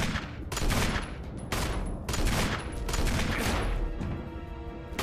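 Resident Evil gunfire: heavy booming shots and crashing impacts in several loud bursts, with sustained rumbling reverberation between them.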